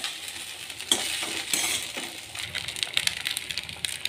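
Rice stir-fried in a pan gives a continuous soft sizzle, broken by scraping strokes and clinks of a utensil against the pan, close up and without talk.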